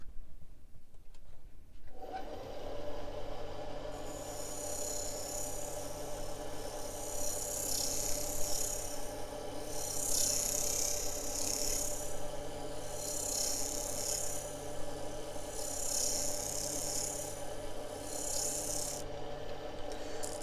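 A skew chisel rubs and shears across spinning wood on a lathe, a soft, sustained scraping hum with a steady motor drone underneath, close and fairly quiet, with no voices.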